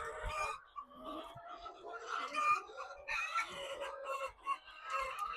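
Hens cluck and squawk repeatedly nearby in a coop while eggs are gathered, with irregular bursts of agitated calls and a crowing-like cry, mixed with faint handling sounds.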